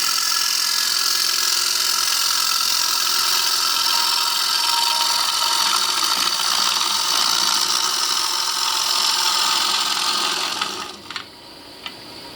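A lathe cutting a small koa wood calabash with a cobalt bit produces a steady, bright hissing shear of small cuts for about ten seconds, then stops with a few light taps.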